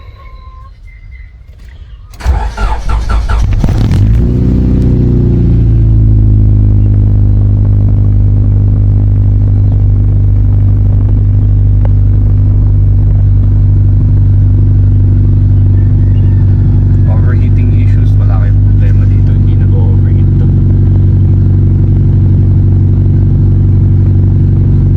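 A Honda Civic with a VTEC engine and automatic transmission cranks briefly, fires up and settles into a steady, loud idle close to the exhaust, a continuous low hum running on for over twenty seconds.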